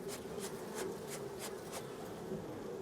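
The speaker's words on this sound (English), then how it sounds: "Let's blow these bees away." Honey bees on a hive frame buzz in a soft continuous drone, with repeated airy puffs sweeping through at regular intervals as they are blown off; close and fairly quiet.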